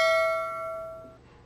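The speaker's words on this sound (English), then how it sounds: "subscribe, hit that notification bell" A notification bell sound effect rings once with a bright, sustained chime that slowly decays over about a second, clear and alone with no talking.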